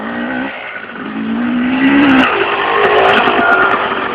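A dirt bike engine roars loud and close while it is ridden, its pitch climbing and surging as the rider accelerates through one long run.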